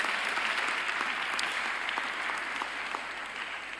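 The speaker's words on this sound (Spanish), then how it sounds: "Y Tino, un fuerte aplauso." A conference audience at a diocesan vocations congress gives a warm round of applause, dense clapping close and steady for several seconds before easing slightly toward the end, with no talk over it.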